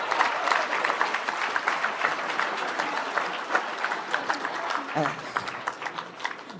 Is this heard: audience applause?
yes